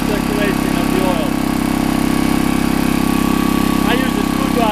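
A 1959 Lickity log splitter's small engine runs steadily and loudly close by, a constant droning idle with a throbbing low hum and faint squeaks over it.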